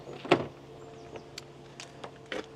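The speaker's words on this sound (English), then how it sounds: "and then open the passenger door" Passenger door of a 2018 Hymer ML T 570 motorhome opening, with a sharp click-and-clunk near the start followed by softer rattles and a couple of faint knocks, close by and otherwise quiet.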